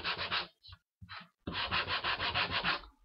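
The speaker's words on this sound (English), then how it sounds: "I'm just going to sand up the edges because I'm going to distress this baby" Sandpaper rubs rapidly back and forth along wooden edges, with rhythmic close scratchy strokes in two short bursts and then a longer steady run.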